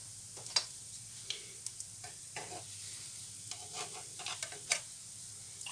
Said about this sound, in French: Nous sommes toujours en train de cuire nos crêpes.